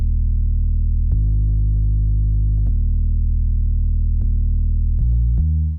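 A dry synth bass patch from the Nexus plugin, with no effects added, plays a few sustained low notes in a slow, steady line that changes pitch every second or so, loud and alone.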